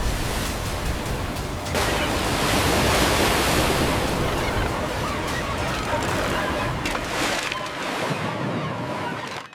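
Ocean waves and surf churn loudly around crab trap buoys at sea, a continuous broad roar with surges of breaking water and some wind, no clear voices.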